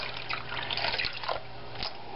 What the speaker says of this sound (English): just a bit of cold water going in there.